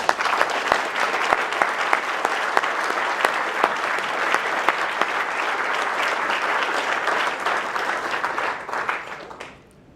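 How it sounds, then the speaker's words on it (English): Applause from guests at the close of a dinner event, steady dense clapping filling the room for several seconds before tapering off abruptly at the end. "I would just like to ask you all to do one round of applause for these amazing people"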